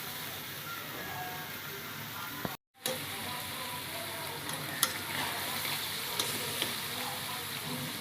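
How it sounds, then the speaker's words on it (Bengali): Fried potatoes sauté in a pan of crab curry, giving a steady, dense sizzle with occasional stirring scrapes and a brief dropout near the start, close and continuous with no talk. "ভেজে রাখা আলুগুলো দিয়ে 2 মিনিট কষাই নেব।"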